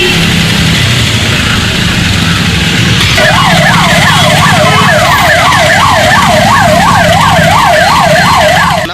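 An ambulance siren wails in a steady rising-and-falling pattern through a dense rumble of idling and crawling vehicles in a heavy traffic jam at a four-way junction on the collectorate office road. The siren starts partway in and stays loud, with no talk.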